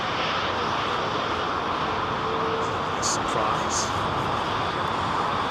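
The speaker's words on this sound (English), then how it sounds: "Got that beautiful Thai 777 pushing to go out." A Thai Airways Boeing 777 airliner pushes back to depart at London Heathrow, giving a steady, loud broadband jet engine roar throughout, with a brief spoken word over it.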